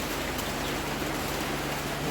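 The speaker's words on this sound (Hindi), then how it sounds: "बारिश अभी भी हो रही थी।" Steady rainfall in Nameri, Assam, a continuous even hiss of drops with no breaks, close and moderately loud, with no voices.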